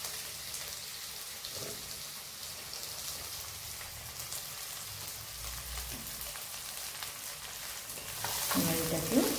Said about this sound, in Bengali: এবার এটাকে লাল লাল করে ভেজে নেব